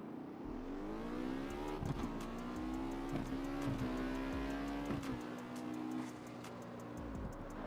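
A car fitted with a Ford Shelby engine in the game CarX Street revs and drones continuously, pitch climbing and dropping through several gear shifts, with brief clicks and bursts over the steady motor hum.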